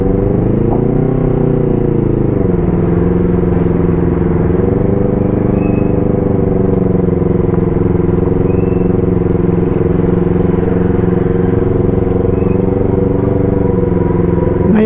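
Steady road traffic on Emilio Aguinaldo Highway toward Alfonso near Tagaytay on a morning, motorcycles and cars droning past continuously with a constant low rumble and occasional engine swells, fairly close and loud throughout.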